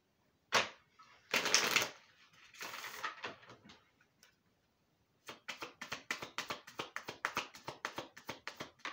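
Tarot cards being handled: a few brisk riffle shuffles and rustles, a pause, then a quick run of crisp card flicks and taps as cards are drawn and laid down, close and clear.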